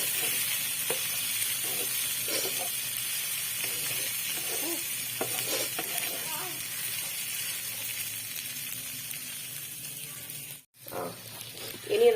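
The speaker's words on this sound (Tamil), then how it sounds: "நல்லா போட்டு வறுக்கிறேன். சிம்மில் வச்சுருக்கேன்." Prawns fry in oil in a pan over a low flame, giving a quiet, steady sizzle with occasional soft stirring scrapes, close and alone, with a short break near the end.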